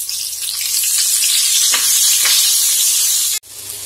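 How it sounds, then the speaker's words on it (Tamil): Chopped onions fry in a pan toward golden brown for a chicken gravy, a loud, steady sizzle and crackle that holds evenly and then cuts off abruptly near the end. "வெங்காயத்தை நல்ல கோல்டன் கலர்ல வறுத்து எடுத்துக்கலாம்."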